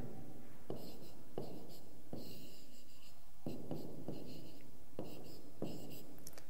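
Pen or chalk writes out a number pattern in a maths lesson, with a series of rhythmic scratchy strokes in short bursts, close and fairly loud, each followed by brief pauses.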